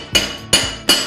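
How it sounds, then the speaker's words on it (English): A chipping hammer strikes an arc weld three times at an even, steady pace to knock off burnt flux slag, each hit a sharp, bright metallic clink with a short ring, close and loud. "You can do this with a chipping hammer"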